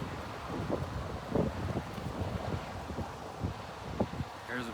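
Wind blowing outdoors on a sunny day, a steady rushing buffet across the microphone with gusty swells, loud and continuous throughout.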